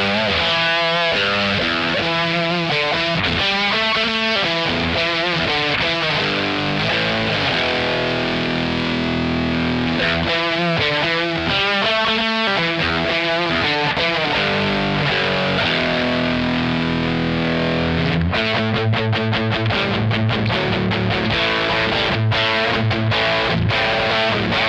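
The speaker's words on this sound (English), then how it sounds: "When you turn down the volume on the guitar, you get this turning the octa up." An electric guitar with a single-coil pickup plays through a Kemper Profiler fuzz with the octa control turned up, producing loud, thick, distorted riffs and sustained octave-fuzz chords for a long stretch, with no talking.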